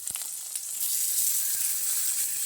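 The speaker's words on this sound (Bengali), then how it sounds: "এবার চিকেনগুলো দিয়ে দিচ্ছি কড়াইতে" Chicken pieces hit a hot kadai with a sudden loud hiss that settles into a steady, close sizzle.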